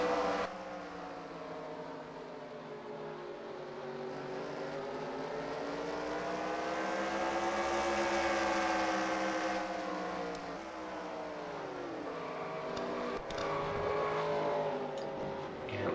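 Late Model race cars screaming around Myrtle Beach in the NASCAR Racing 2003 game, a pack of engines droning together with pitch rising and falling as they rev through a lap, loud and continuous.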